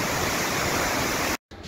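Steady, loud rushing of water flowing down by a lake, a continuous broadband roar that cuts out briefly near the end before resuming.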